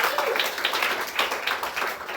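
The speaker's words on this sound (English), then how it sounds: "Clap it up for Wilfredo" A comedy club audience applauds for a contestant named Wilfredo at a live stand-up game show in New York, a steady wash of clapping from a crowd that swells and dips but never stops.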